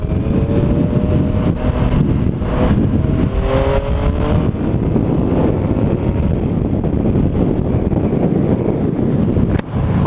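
A motorcycle rides at speed and overtakes another vehicle, its engine droning and revving under heavy, constant wind buffeting on the microphone, loud and close throughout.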